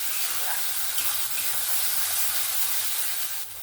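Spice paste for a matar paneer frying in a pan over a low gas flame, giving a steady, dense hiss and sizzle, close and continuous, easing slightly at the end, with no talking.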